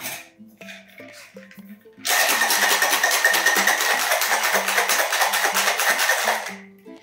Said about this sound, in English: give that a good shake in your cocktail shaker